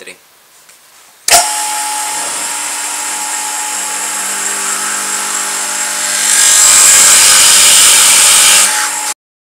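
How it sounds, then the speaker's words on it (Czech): A power drill boring a 2 mm stepped hole in wood for a tenon, a loud steady whine that grows harsher and stronger as the bit bites deeper, then cuts off. "z vrchu, kam se vlastně bude takhle vsazovat ten čep, tak teda budu vrtat s tím osazením ty 2 mm"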